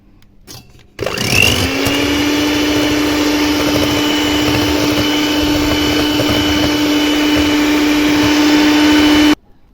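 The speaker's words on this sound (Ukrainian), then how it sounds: "Три яйця збиваємо." Electric kitchen mixer beating three eggs, switching on abruptly and running at a steady, loud whine for about eight seconds before cutting off, close by and without talking.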